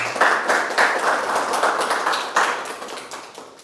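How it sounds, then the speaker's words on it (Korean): A church seminar congregation claps together, a short burst of dense applause from a small group that swells in pulses and tapers off within a few seconds. "박수 한번 하죠."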